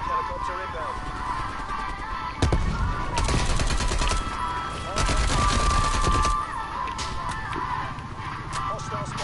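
Artillery barrage in a Call of Duty Cold War multiplayer match: loud clustered bursts of blasts and rapid gunfire in two heavy waves, close and rumbling, with quieter battle noise between.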